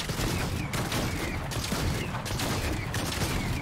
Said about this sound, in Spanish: Es que mirad lo que hace la escopeta.